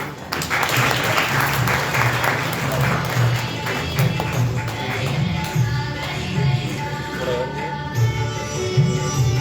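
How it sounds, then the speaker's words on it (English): An audience at an international academic seminar applauds a special guest, steady sustained clapping from many hands filling the room, with a low voice murmuring underneath throughout. "Put your hands together"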